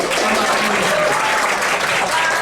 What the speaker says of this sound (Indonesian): Coba deh kita tepuk tangan ya